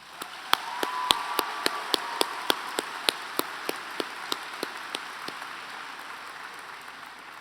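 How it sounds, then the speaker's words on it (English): A large audience applauds at a Kingston university convocation ceremony: a steady wash of clapping held for several seconds, with sharp, evenly spaced claps standing out close by. "let's all give these folks a big round of applause"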